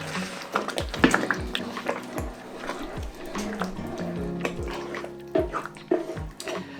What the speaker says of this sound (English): immediately I'm putting in my rice. And stir.